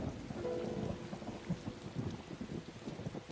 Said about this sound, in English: This thunder's pretty intense